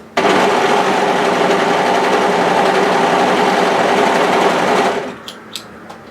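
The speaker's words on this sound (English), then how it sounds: "So we'll just go ahead and overlock the edges together here." An overlocker sews fabric edges together for a cocoon cardigan shrug, running in one steady, loud mechanical whir for about five seconds before stopping, followed by a couple of faint clicks.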